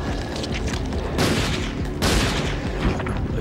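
Gunfire in the PS2 shooter Resident Evil Dead Aim, a dense barrage of loud blasts with two heavy booming shots standing out over a continuous rumbling background of game noise.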